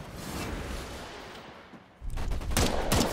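Gunfire in the video game Bloodhunt: a sustained rattle of shots, then louder, denser bursts of rapid fire close up, with no voices over them.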